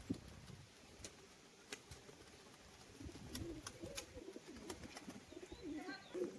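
Pigeons, racing birds kept for sale, give soft, faint cooing and brief wing flutters against a quiet outdoor background, with scattered light taps throughout.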